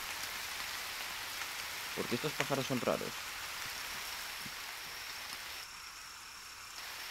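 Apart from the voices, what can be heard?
rain in the video game The Forest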